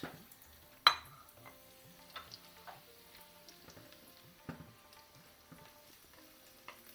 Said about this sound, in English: And then you add the green chilies. Stir that a bit.